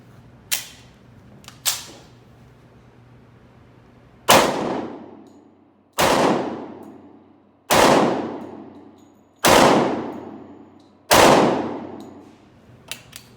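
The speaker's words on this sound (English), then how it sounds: "So these are my first shots with this P220." Seven sharp, loud 10mm pistol shots from a Sig P220 Legion at an outdoor range, two early spaced reports then five evenly spaced heavy cracks about every second and a half, each with a ringing decay, no talking.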